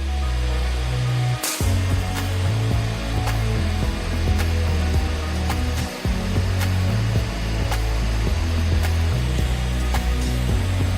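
A 600-degree heat gun blows steadily on melting plastic from a Coca-Cola experiment, a loud continuous roaring hiss that briefly cuts out twice and resumes, with no voices.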